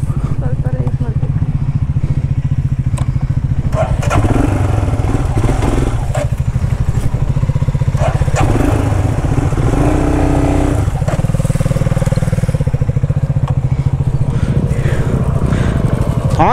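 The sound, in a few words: off-road motorcycle engine revving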